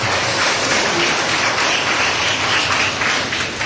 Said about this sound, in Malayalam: നിങ്ങളുടെ ഒരു നിറഞ്ഞ കയ്യടി നൽകി നമ്മുടെ നന്ദി അവരെ അറിയിക്കുകയാണ്